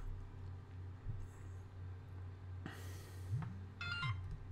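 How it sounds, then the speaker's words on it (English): A phone going off with repeated notification tones: short electronic chimes pop up a few times, fairly faint, over a low steady hum, with no talking. "And my phone's going off like crazy now all of a sudden."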